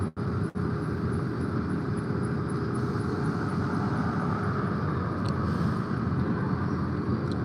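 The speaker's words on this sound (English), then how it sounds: "It's just a bit of noise of the traffic" Steady traffic noise outdoors, a continuous broadband rumble and hiss that holds level throughout, with a brief dip near the start and no talking.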